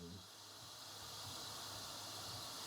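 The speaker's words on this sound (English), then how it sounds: "as you can hear, the pan is just searing and searing" A hot pan sears a spring roll with a continuous, loud, close hiss of sizzling oil, steady throughout with no pauses.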